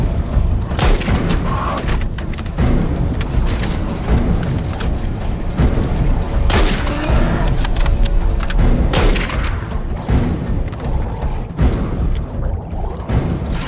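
Loud gunshots and booming blasts in a horror movie ring out repeatedly, sharp cracks scattered over a dense, rumbling background of continuous noise.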